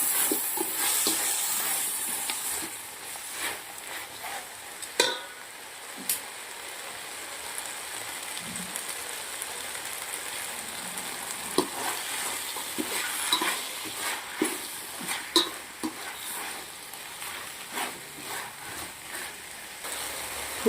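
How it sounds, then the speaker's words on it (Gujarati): Green coriander and spring onion being stirred into crispy chilli potato in a pan, a soft continuous sizzle with scattered scraping clicks of the spoon, fairly quiet and without talk. "લીલા ધાણા પછી લીલી ડુંગળી મિક્સ મિક્સ મિક્સ"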